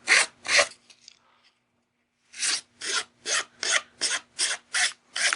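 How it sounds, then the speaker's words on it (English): Hand file rasping against the edge of a watercolor paper pendant, two strokes, a pause, then seven evenly spaced one-directional scrapes, close and crisp with no talk. "Notice I'm not filing back and forth like that. I'm pushing in one direction into the edge of the piece."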